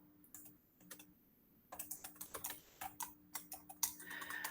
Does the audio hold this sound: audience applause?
no